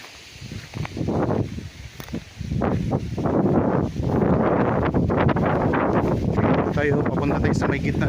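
Steady outdoor wind gusting and rushing across the microphone on a farm lot with bamboo, rumbling continuously and growing louder after the first couple of seconds.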